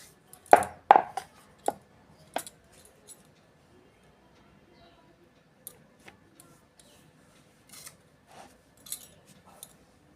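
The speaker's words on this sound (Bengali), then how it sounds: "এবার আমি ছুরি দিয়ে কেটে নেব।" A knife cuts through rolled nimki dough of flour, making a few short, sharp taps on a board followed by sparse, faint clicks in a quiet kitchen.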